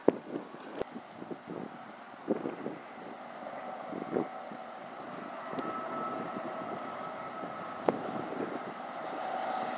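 Strong high wind buffets the microphone in a steady broadband roar with gusty swells and a few sharp knocks, heard beside freight train tracks during a 60 mph wind warning, with no talking.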